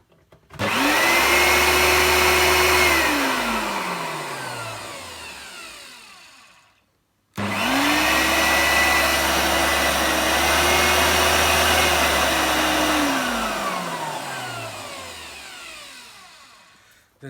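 A Samsung 15-inch Wide Clean upright vacuum cleaner with a dirt sensor is switched on twice. Each time the motor whines up to a loud, steady roar and then winds down, with a short silence between runs.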